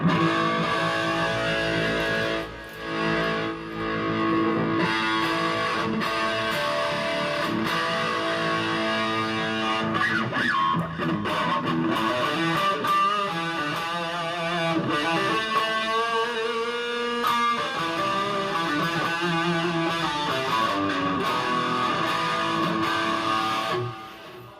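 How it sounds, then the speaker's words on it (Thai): A steadily strummed electric guitar through a Boss ME-25 multi-effects unit's gritty distortion, dense and sustained for the whole stretch, loud and up front with no talking. "ตัวนี้เป็นเสียงแตก"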